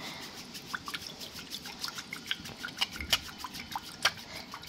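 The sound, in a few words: whisking curd by hand for lassi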